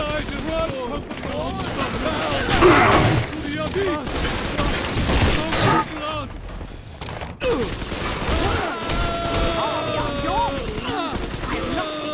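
Gunfire in the video game BioShock 2 Remastered, a sustained volley of rapid shots and mechanical clatter layered with shouting voices and game effects, loud and close.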